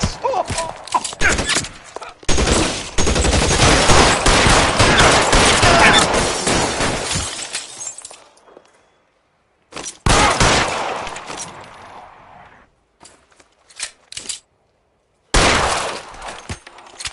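Rapid bursts of gunfire in L.A. Noire, loud and close, dense volleys of shots running for several seconds, then shorter separate bursts after brief silences.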